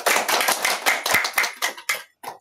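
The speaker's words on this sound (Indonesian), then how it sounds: "diberi tepuk tangan." Students in a classroom clap in a short round of applause for a group that answered correctly, a quick irregular burst of close handclaps tapering off after about two seconds.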